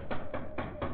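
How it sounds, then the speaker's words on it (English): Four evenly spaced dull thumps, like knuckles knocking on a wooden door, in a radio drama, fairly close with a quiet room behind. "I'll try knocking."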